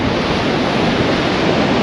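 Wind and Atlantic surf at the Plage de la Salie during surfcasting: a loud, continuous roar of breaking waves mixed with gusting wind buffeting the microphone, steady throughout with no voices.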